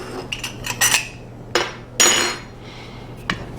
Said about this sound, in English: we can go ahead and dish up a bowl of this right quick